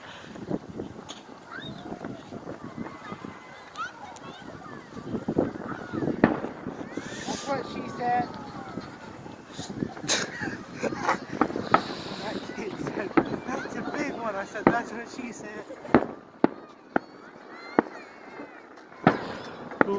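New Year's fireworks explode repeatedly at varying distances, sharp bangs and crackling bursts mixed with wind noise, while people talk over them.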